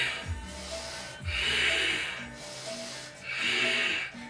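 Three forceful, breathy exhales during a yoga pose, evenly spaced and close, each a soft rushing puff.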